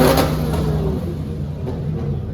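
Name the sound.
sports cars revving engines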